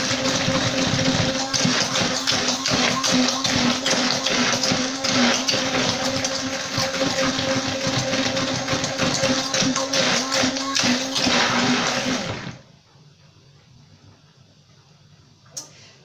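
A blender purees apples for homemade compote, a dense steady whir running loud for about twelve seconds, then cutting off abruptly into near silence with a single faint knock near the end.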